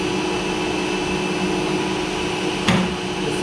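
A large 1960s lathe runs under power feed driven by a worn lead screw, giving a steady machine hum with a faint whine, broken near the end by one brief clunk.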